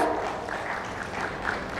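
A summit audience at an insurance awards event applauds in a steady, dense wash of clapping, moderately loud and continuous, with no voices over it.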